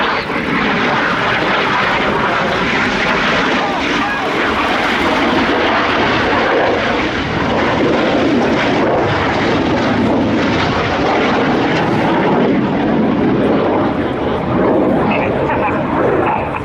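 Red Arrows jets at the Royal International Air Tattoo 2016, the Synchro pair flying a display manoeuvre, give a loud, continuous broadband roar that stays steady throughout, with a commentator talking over it.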